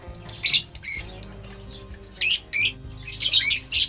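Lovebirds, including a split-mutation breeding pair, give sharp repeated squawks and chirps in uneven bursts, close and loud, with short pauses between calls.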